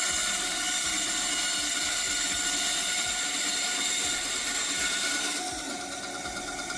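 A Laguna V10 machine powered on without its dust collector, giving a loud, steady, broadband mechanical whine that holds continuously throughout and shifts only slightly near the end.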